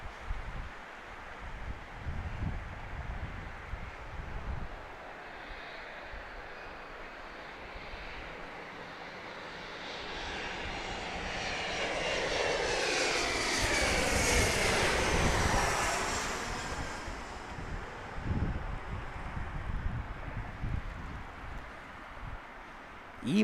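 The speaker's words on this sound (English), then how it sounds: "E175 from Santa Rosa, wine country." An Embraer E175 jet airliner arriving at John Wayne Orange County airport swells from a distant roar to a loud, whining pass near the middle, then fades, with wind noise and rustling throughout.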